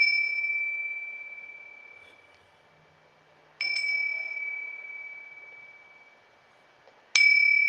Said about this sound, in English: I like to ring the bell, it just helps me to tune into the energy.